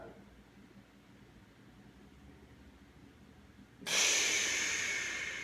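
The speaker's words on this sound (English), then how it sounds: "And then we're going to take a big exhale." Deep breathing during a posterior chain stretching exercise, a quiet held pause followed by a sudden loud, breathy exhale close to the microphone.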